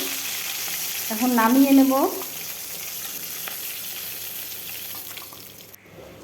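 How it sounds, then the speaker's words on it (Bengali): Hilsa fish head sizzling in hot oil in a pan, a steady frying crackle with a brief stirring scrape, and someone speaking briefly over the cooking sounds. "বেশি ভাজলে আবার ভালো লাগে না ইলিশ মাছের মাথা। হালকাই ভাজবো আমি।"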